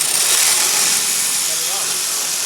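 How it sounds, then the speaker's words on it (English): A bimetal saw blade cuts through metal clamped in a vise, a steady, loud, close-up rasping hiss that holds at an even level for the whole stretch without any pause. "put it in your vise and use your vise as a guide. Wear some safety glasses. Use like a bimetal blade, and then cut"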